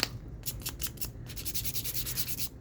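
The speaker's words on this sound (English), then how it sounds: "Let's also sand these real quick" Close, rhythmic scratchy rubbing of a small sanding disc on a dauber against paper, a steady series of quick strokes with no voices.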